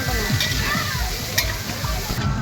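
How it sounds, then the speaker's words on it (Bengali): Cauliflower, capsicum and carrot fry in oil for mixed dal at an outdoor picnic, giving a steady close sizzle broken by scraping stirs. "এবার আমরা ক্যাপসিকাম, গাজর এগুলো সব ভেজে নিলাম।"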